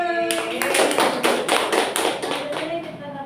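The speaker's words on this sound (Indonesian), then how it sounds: "Ya, tepuk tangan." Students in a classroom group presentation clap together in a quick, even run of claps, with voices cheering over them.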